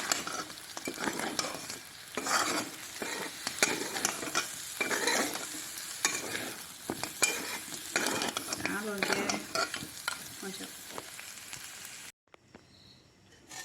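Dry frying in a pan, a continuous close sizzle with rhythmic stirring and scraping strokes, cutting off to near silence near the end.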